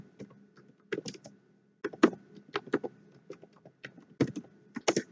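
Keys clack on a computer keyboard in uneven bursts of quick taps, close and fairly quiet, with short pauses between runs of typing as dummy text is entered.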